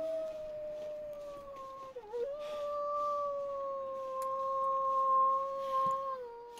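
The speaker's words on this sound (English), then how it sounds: "That is the sound of a wolf." A wolf howls in the survival video game Interloper: one long, sustained, wavering cry that dips briefly, then holds steady and fairly loud over a faint background, with no talking.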